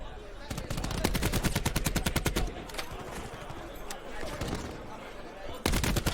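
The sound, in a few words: gunfire in Call of Duty video game match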